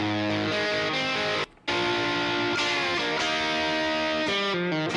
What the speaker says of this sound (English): Then add in a dry, distorted guitar.